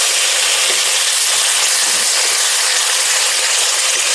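Water splashed into ginger and cumin paste frying in a pan for Bengali tel koi fish curry, giving a loud, steady, unbroken sizzling hiss close up for the whole stretch.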